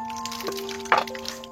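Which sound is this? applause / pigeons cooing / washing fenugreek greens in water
washing fenugreek greens in water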